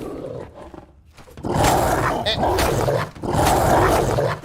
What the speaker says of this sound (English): Oh no, it's a dog.